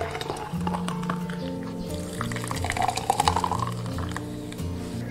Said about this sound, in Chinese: 再把西瓜桃冰倒入饮料瓶里面